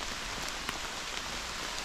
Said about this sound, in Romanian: Mă prinse și ploaia prin pădure cu alune, în pădurea cu alune mă prinse ploaia.